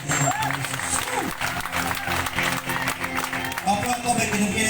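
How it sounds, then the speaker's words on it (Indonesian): A crowd at an outdoor market gathering claps and cheers continuously, the applause mixed with background voices and bustle throughout. "Berikan tepuk tangan paling tinggi Yesus."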